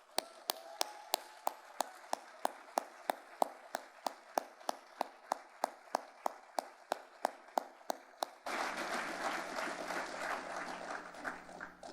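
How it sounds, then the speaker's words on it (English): At a JCN summit and gala, a crowd honours Bernie Marcus: a steady run of sharp, evenly spaced claps gives way abruptly to a full, loud wash of sustained applause. "I want to give Bernie Marcus a rousing applause."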